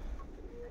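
Pigeon cooing, an older bird from 2011 in moult, low and soft with a faint cooing note over a steady low background.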